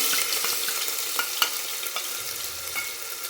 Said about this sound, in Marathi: व्यवस्थित फ्राय करून घ्यायचं। हाय फ्लेमवरतीच करायचं आहे फ्राय।